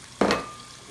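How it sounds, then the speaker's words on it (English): Green peppers dropped into a hot pan, bursting into a short, sharp sizzle that flares loudly and then fades to a soft hiss, with no talk. "let's throw the green peppers in there. There we go. That's what you want. Nice sizzle."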